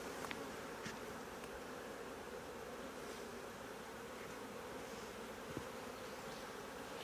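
Honeybees hum steadily around an open hive during a beekeeping class, a dense continuous buzz with a few louder passes of single bees close by, no talk.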